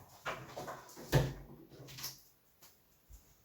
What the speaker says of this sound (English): Give me a second, I need to close this door.